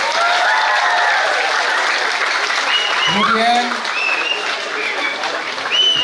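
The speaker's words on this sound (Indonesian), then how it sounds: "Tepuk tangan buat beliau." A crowd applauds a school official at a banana-planting event with the acting governor of South Sulawesi at SMAN 3 Tana Toraja. Steady, dense clapping fills the whole stretch while someone speaks over it.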